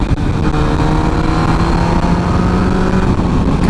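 A 2007 MV Agusta F4 1000R sport motorcycle ridden through bends, a loud steady engine drone with wind rush, close and continuous without talking.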